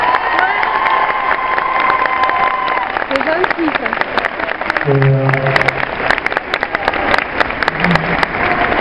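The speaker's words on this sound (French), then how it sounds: "On l'applaudit très fort" A concert crowd at a Génération 90 show at Disney Village applauds and cheers a singer on stage, a dense steady crackle throughout, with someone speaking over it and faint musical tones underneath.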